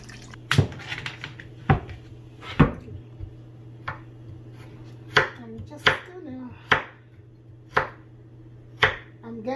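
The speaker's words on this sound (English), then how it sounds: "I'm just slicing the ginger a little bit so it could help my blender." A knife slices ginger on a cutting board for a ginger pineapple drink, giving about a dozen crisp, close chops at an uneven, unhurried pace with short quiet gaps between strokes.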